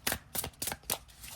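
A deck of thick tarot cards is shuffled by hand in four quick, crisp riffling bursts at an even rhythm, close and clear with no talking.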